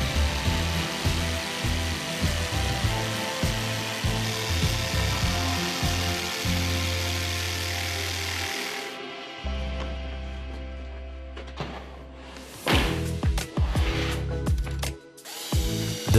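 A power saw cuts a curved shape out of a wooden plank, a loud, steady mechanical whirr with rattling, stuttering pulses that shifts pitch partway through, then breaks into sharp clatters and bursts near the end.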